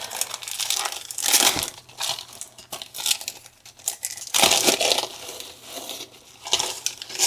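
Plastic packaging on red velvet bows gets ripped open, with sharp crinkling and tearing bursts arriving in irregular clusters, close and fairly loud.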